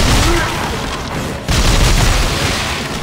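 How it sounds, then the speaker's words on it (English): An electric nail gun fires in Dead Space 3: loud, dense, crackling blasts that fill the clip, broken by a brief drop near the middle before the noise resumes. "Oh, it's an electric nail gun!"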